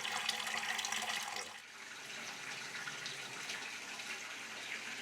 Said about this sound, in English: And yet another historical fountain.